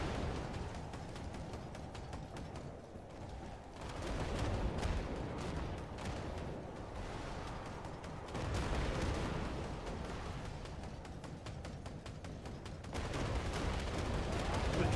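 Gunfire in the video game Iron Conflict, with distant, muffled shots and heavy booms of battle rolling through the whole stretch in uneven waves, a steady low rumble beneath.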